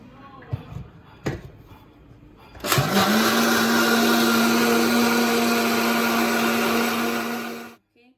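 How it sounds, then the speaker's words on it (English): A mixer grinder whirs loudly and steadily for several seconds as it grinds green chili with lemon juice, preceded by a few clunks while the jar is set in place, then spins down and stops. "This is green chili, and I'll squeeze lemon juice in it. Now I'll grind it."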